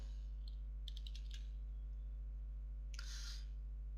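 Quick bursts of keystrokes on a computer keyboard typing a Linux command, a short cluster of clicks followed by a brief louder flurry, faint beneath a steady electrical hum.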